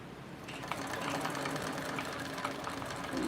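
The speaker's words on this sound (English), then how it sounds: "I have my stitch length to a 5. So I'm gonna take a couple and back stitch." A sewing machine set to stitch length 5 back stitches with a quick, rhythmic mechanical chatter, close and fairly loud.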